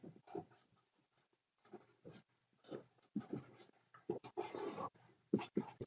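Marker strokes drawing a circuit diagram on a lecture board, short scratchy squeaks in scattered bursts with quiet gaps, faint and close.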